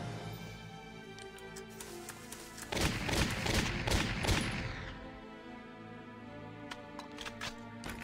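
Dense volley of gunfire from Valkyria Chronicles Remastered, a loud sustained burst of rapid shots in the middle over steady game music, fading into scattered quieter cracks.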